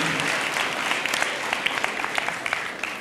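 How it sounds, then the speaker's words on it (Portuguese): Church congregation applause for mothers during a pastor's sermon, a dense, even round of clapping from a crowd that holds steady for a few seconds. "as mães, elas merecem uma salva de palmas para as mamães, por favor"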